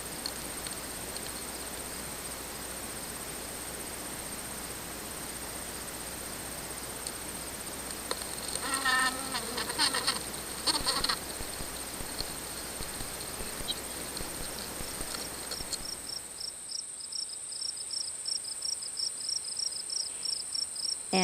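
Amplified tiny scratching, rustling and faint buzzing from native bees inside small nest cavities, a dense close-miked crackle with steady high-pitched tones running throughout and no voices.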